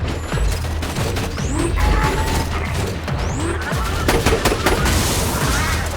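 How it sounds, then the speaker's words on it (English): Rapid automatic gunfire from a sentry gun turret in Borderlands 2, dense continuous bursts with crashing impacts and mechanical clatter, loud and close throughout. "Sentry gun prime!"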